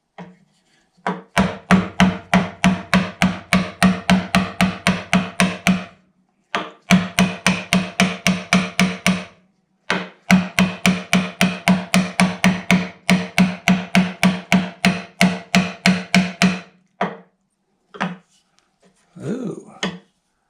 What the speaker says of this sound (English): I'm going to go ahead and try the bigger hammer